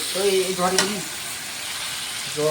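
Yogurt-marinated meat fries in a pan of spiced masala with green chilies at a picnic, giving a steady hiss and sizzle with stirring scrapes near the start and brief speech over it.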